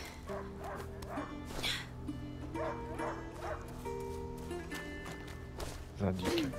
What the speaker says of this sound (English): He stopped barking.